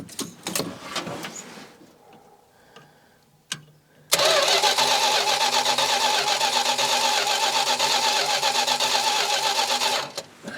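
An old car or truck engine cold-starting in below-freezing temperatures after fuel is poured into the carburetor: faint cranking attempts, then the engine catches and runs loud and steady at a fast idle, close by, without talk.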